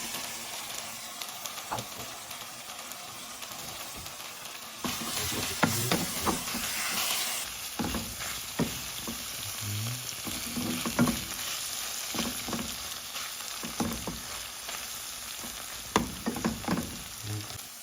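Sausage sizzles and fries in a pan over low heat for a homemade bandari, a steady hiss of fat with stirring scrapes and clatters growing busier partway through, close and moderately loud with no talk.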